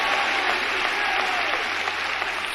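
A crowd at a Kamala Harris rally in Las Vegas claps and cheers, a loud, dense wall of applause holding steady throughout.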